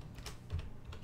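Quick keystrokes on a computer keyboard, a short burst of soft, close clicks over a low steady hum.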